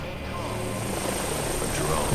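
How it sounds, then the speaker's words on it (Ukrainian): A drone flies in the video game Batman: Arkham Origins, a steady whirring rotor drone that holds loud and constant throughout, with a voice speaking over it. "Безпілотник. Він не звідси. Хто ж ним керує?"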